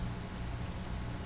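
Steady, even rain ambience under a grey sky in the video game Disco Elysium, a constant soft hiss with no talk over it.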